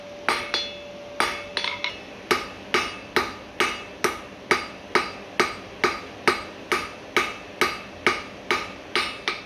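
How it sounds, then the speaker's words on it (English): Steady, evenly spaced hammer blows ring out on hot metal being forged, about two per second, sharp and close with a bright metallic clang on each strike. "get a really good nice consistency with the hammer blows as well"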